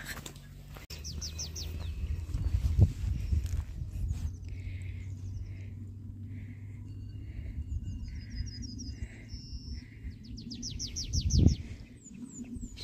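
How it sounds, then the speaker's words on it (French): Birds chirp and trill outdoors on a summer hillside, with short repeated calls near and far over a low ambient rumble; cow bells are not clearly distinct. "Je sais pas si vous entendez les oiseaux et les vaches, les cloches des vaches."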